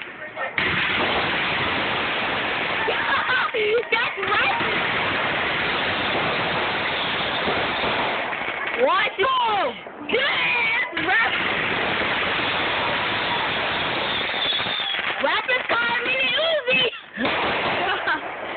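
Sparking fireworks going off outdoors, a loud sustained hissing crackle with bursts and pops throughout, while excited voices shout over it.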